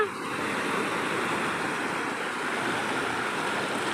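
Sea surf washing in close at a beach in Odisha, a continuous loud rushing roar of water and wind filling the whole stretch without pause.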